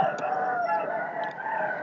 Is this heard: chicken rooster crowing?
yes